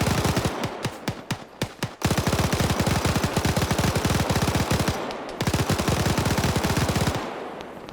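Rapid automatic gunfire from a video game, a loud near stream of shots in bursts with brief pauses, a short broken volley first, then long sustained fire, ending abruptly.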